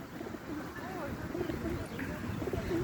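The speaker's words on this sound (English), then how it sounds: "Look at all those birds right there" Pigeons in a park being fed bread coo softly and repeatedly nearby, with low rolling calls recurring under people talking.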